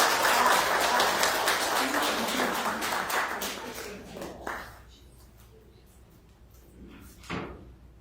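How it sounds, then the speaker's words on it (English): An audience at a school sunset concert applauds young pianist Riley Cummins: a dense, steady wash of clapping that gradually fades over about four seconds, leaving a quiet room with a couple of isolated knocks. "let's have a big round of applause for Riley Cummins"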